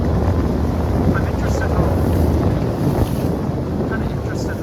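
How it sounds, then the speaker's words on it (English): Waves and strong wind surround a small boat off Vashon Island, making a loud, steady roar with rushing water and wind buffeting the microphone throughout. "The waves are kind of picking up a little bit here."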